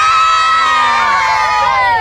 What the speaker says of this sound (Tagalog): Sigawan mga batang Pampanga!